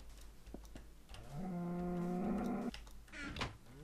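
A Minecraft cow lets out a single low, drawn-out moo, moderately loud and close, over quiet game ambience with no talking.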